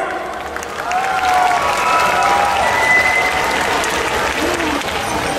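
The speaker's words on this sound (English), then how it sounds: "Please give a round of applause to our Hmong voters." Audience applause at a Hmong Minnesota New Year 2019 gathering in honor of Hmong voters, a steady wash of many hands clapping with some crowd noise, loud and sustained throughout.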